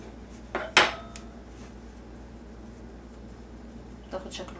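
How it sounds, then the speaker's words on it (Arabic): A metal fork clinks sharply against a plate while pressing and sealing the edges of samosa pastry. There are a few distinct taps, the loudest early on and a softer pair near the end, with a person talking throughout. "ممكن اقفلها بشوكة كده"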